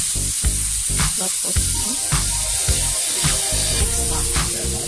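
Sardines fry in a hot pan, a constant bright sizzle and hiss with occasional stirring clatter, close and loud, as a voice speaks briefly.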